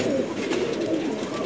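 Several pigeons coo steadily in a pigeon loft at an old home in Lalbag, a soft, continuous warbling murmur that fills the short stretch with no talking.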